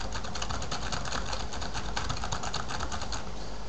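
Numbers being typed on a computer keyboard, a quiet continuous patter of key clicks heard alone in a soft room.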